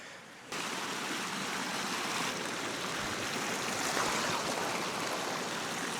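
Steady, full-bodied rush of river water flowing past, close and continuous, with a broad wash of sound that swells slightly midway; no voices.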